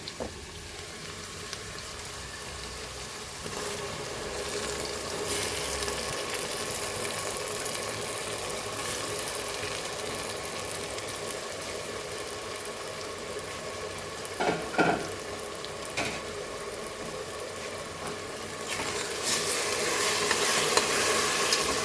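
Tomato frying in a pan with curry leaves for achari chicken curry, a steady broad sizzle with occasional stirring scrapes, close and continuous.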